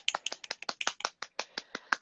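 Closing applause at the end of an online tarot reading: a quick, steady run of about a dozen sharp claps over two seconds, close and crisp, with no talking.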